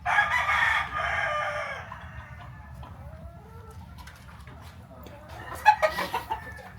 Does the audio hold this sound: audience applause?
no